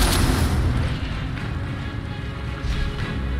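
An Incendio fire spell bursts in Hogwarts Legacy, a heavy booming whoosh of flame that rumbles and roars loudly, fading briefly before surging again.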